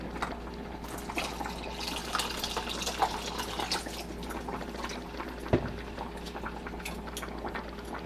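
Water runs and splashes into a cooking pot of canned black beans with their liquid, a steady bubbling pour with a couple of faint knocks against the pot.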